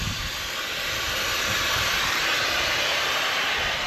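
Compressed air rushing out of an air bag on farm planting equipment, a loud steady hiss that holds unbroken for several seconds without talk.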